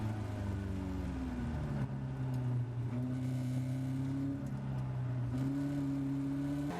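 Caterham race car engines roar at Oulton Park as heard from on board, a loud sustained drone whose pitch steps up and down through gear changes and braking into a chicane, with no talk.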